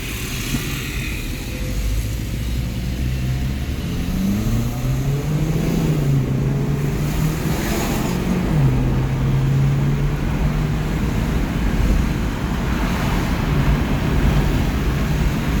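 Chevrolet Cruze Turbo with a downpipe installed, driven on the street: a steady engine drone with rising and falling tones as it accelerates and shifts, loud and close throughout with no talking.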